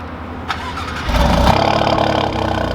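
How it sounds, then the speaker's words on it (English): A V6 car engine cranks and starts by remote start, then settles into a loud, steady idle rumble close by, with no one speaking. "And you guys can hear it's actually pretty loud for V6"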